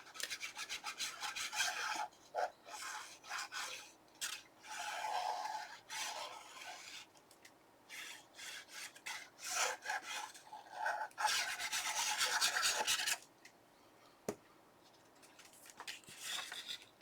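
Glued paper on a Halloween craft album is burnished by hand, producing soft, rhythmic rasping rubs in short bursts with brief pauses between strokes, close and fairly quiet.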